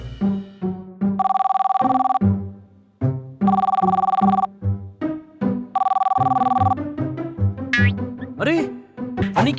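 A telephone rings in three long electronic bursts separated by pauses, loud and close, with animated cartoonish voices and sound effects talking between the rings.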